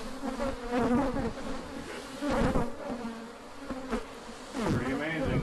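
Swarm of Africanized honeybees droning steadily around a hive inside a horse stall, a dense close buzz with individual bees swelling louder as they pass near, and someone speaking briefly over it.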